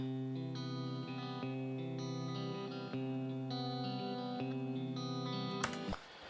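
Simple finger-picked acoustic guitar plays a steady, ringing pattern of clear notes, close and even in level, before a sharp noisy burst at the end cuts it short.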